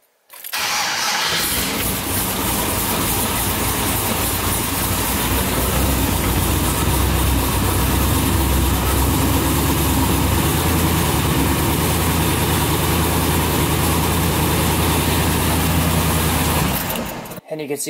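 A car engine fires up roughly from cold, with the coolant temperature sensor unhooked, then settles into a steady, loud close idle for about fifteen seconds before cutting off.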